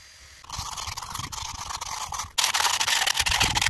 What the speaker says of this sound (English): I'm going to actually use an electric sander